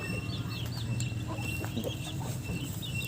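Chickens and ducks feeding outdoors give soft clucks and short calls over a steady background hum, with faint pecking and shuffling close by.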